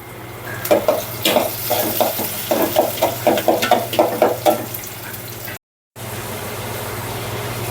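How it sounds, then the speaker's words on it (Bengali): Lentils stirred in hot oil with onion and garlic turning reddish, with close, rhythmic scraping strokes over a steady fry, then a brief dropout and a calmer continuing sizzle. "ডাল তেলে দেওয়া হচ্ছে এখানে পেঁয়াজ রসুন লাল লাল হয়ে আসছে তেলে দিলাম"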